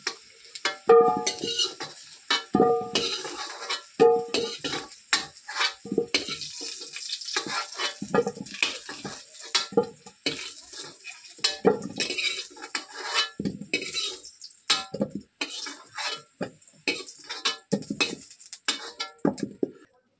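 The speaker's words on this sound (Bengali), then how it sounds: "আলুটা ভাজা হয়ে গেছে, কালারটাও খুব সুন্দর চলে এসছে। এবার নামিয়ে নেব" Fried potatoes are lifted out of a pan with a metal utensil: repeated clinks, scrapes and knocks against the cookware over a light frying hiss, close and uneven, with no talking.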